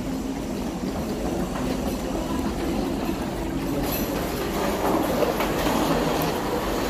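A Delhi Airport Express metro train rolls along with a steady rumble and faint wheel clatter, a brighter rail squeal rising briefly midway, with no talking.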